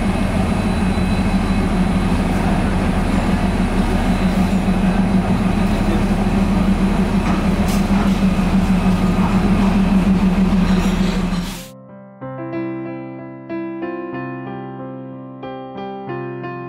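Darjeeling toy train running in the hills, a loud continuous rumble and mechanical drone for about eleven seconds, then it drops away abruptly as music takes over.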